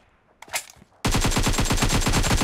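A long, loud burst of rapid machine gun fire from a shooter video game erupts after a few faint shots, each round striking in a fast, steady rhythm close up with no talk.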